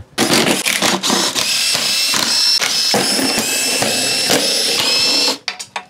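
An impact wrench rattles bolts off a Subaru Impreza engine, firing in loud, rapid, repeated bursts with short pauses between them before cutting off near the end.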